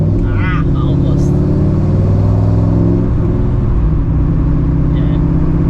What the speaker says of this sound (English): if we're on the throttle, you're gonna get the bubbles